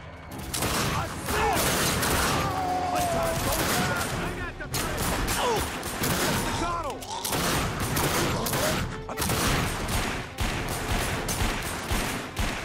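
Continuous gunfire and explosive blasts fill a chaotic firefight in The Darkness 2 video game, loud and dense throughout with a brief lull near the middle, mixed with in-game voices and effects.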